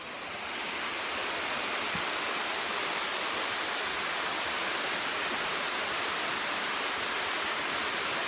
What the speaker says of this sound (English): you are looking at the largest waterfall in Middle Georgia